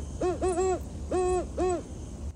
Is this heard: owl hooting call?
yes